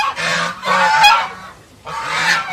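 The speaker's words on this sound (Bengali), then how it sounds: "এই যে আমাদের রাজহাঁস" White domestic geese on a farm give loud, nasal honks close by, three drawn-out calls separated by short pauses.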